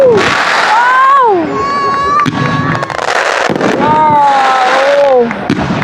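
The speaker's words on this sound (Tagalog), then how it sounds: "ang midnight na ano, fireworks" New Year midnight fireworks set off in a loud continuous barrage of crackles and bangs, with excited crowd cheering and whooping over it up close.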